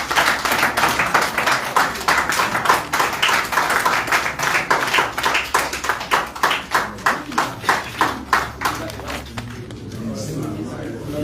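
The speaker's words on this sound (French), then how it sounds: "Je crois que les applaudissements ne sont pas assez nourris." A crowd claps at a political speech, mostly in a steady rhythmic beat that is loud and close, then thins and fades out near the end, with voices over it.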